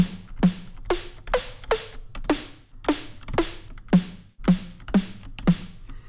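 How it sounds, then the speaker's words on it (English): A snare drum synthesized in Serum hits about eleven times in a steady, evenly spaced rhythm, each crack bright and noisy with a quick decay and a short pitched body. "how to create a snare all inside Serum"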